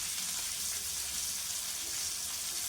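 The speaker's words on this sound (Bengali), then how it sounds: "আম টমেটো তো ভেজে নিব এই 1 মিনিট" Green mango and tomato fry in a pan with a continuous, close, bright hiss of sizzling oil, steady throughout and without any voices.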